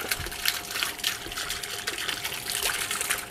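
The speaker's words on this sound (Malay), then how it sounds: "daripada voltage regulator kita sambungkan kepada pump" A solar-powered 12-volt water pump pushes water out in a steady splashing, trickling stream with a faint motor hum underneath, continuous throughout and fairly close.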